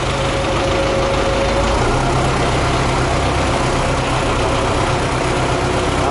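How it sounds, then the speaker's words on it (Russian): An MTZ tractor engine with a loader lifting about a tonne gives a steady, loud low rumble that runs without a break and carries no speech. "тонна для этого погрузчика и для трактора"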